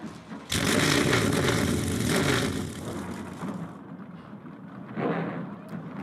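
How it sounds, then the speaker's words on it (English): Thirty-one NASCAR Whelen Modified race cars fire their engines together on pit road at Martinsville Speedway, a sudden loud roar of massed engines that swells and settles into a rumbling idle, then rises again briefly near the end. "31 cars come to life on pit road."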